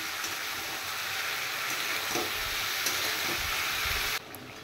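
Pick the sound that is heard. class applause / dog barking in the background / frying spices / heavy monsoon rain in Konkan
frying spices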